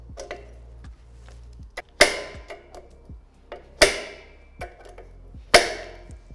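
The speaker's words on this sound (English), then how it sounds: "finish tightening with torque wrench. We do it in the cross direction." Torque wrench tightening bolts on a Kubicek hot air balloon fuel cylinder in a cross pattern, heard as a few sharp metallic clicks spaced about two seconds apart, with small ticks between them, close and fairly quiet.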